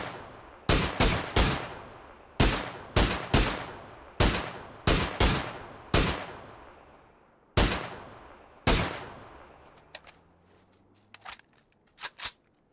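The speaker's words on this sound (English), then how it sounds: "Popping some pretty wild shots at this lad." A DBS double-barrel shotgun in the video game PUBG fires about a dozen loud, sharp blasts in uneven pairs and singles, each followed by a short decaying echo. A few fainter distant shots come near the end.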